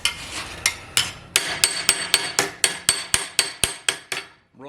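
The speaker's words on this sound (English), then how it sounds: "Hammering it, I just kind of, I call it draw hammering" Draw hammering on a sheet metal panel for a '55 Chevy wagon roof corner rust repair: a steady series of about a dozen sharp, ringing metallic strikes, close and loud, evenly spaced, with no talking.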